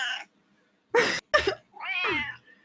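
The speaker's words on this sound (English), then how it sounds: "Ugh, cats." Cats meow in a video game, several separate bursts including a short call, two quick meows and a longer drawn-out wail, clear and close with silence between them.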